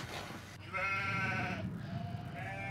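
Goats bleating in a valley, grazing in a herd, with a sustained wavering bleat rising over a low rumbling background and a second call toward the end.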